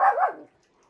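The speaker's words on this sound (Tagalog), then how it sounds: "maingay itong mga aso dito." A single sharp dog bark rings out close and loud, then quickly fades into near silence.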